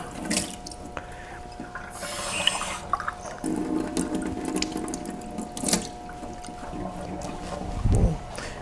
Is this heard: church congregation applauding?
no